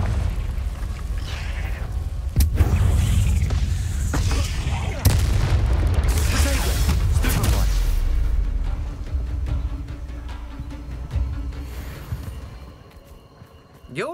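Fiery blast from the Confringo spell in Hogwarts Legacy, booming amid a loud, dense combat mix with several sharp impacts and a rumbling low end, fading toward the end.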